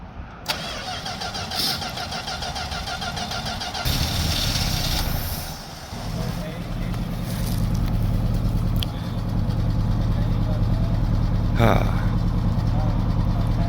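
A 1964 Dodge field find, long neglected, cranks and catches, then settles into a loud, steady running rumble close by, with voices talking over the engine.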